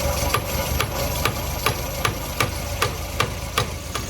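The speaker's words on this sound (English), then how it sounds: "Okay, so I took the socket, tapped it right in the center there." An idling engine on a Mk1 Golf with CIS fuel injection hums steadily while the warm-up regulator is tapped with a socket. The sharp metallic taps come at an even rhythm about every 0.4 seconds and sound close and distinct over the engine.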